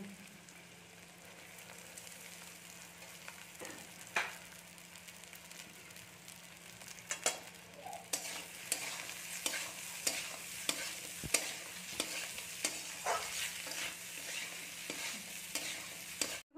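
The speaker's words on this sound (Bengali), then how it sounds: "এবার আমরা এর মধ্যে ভাতটা দিয়ে দেব।" Cooked rice is stir-fried in a pan for lemon rice, with a soft steady sizzle and repeated scraping and knocking of a spatula against the pan, close and fairly quiet.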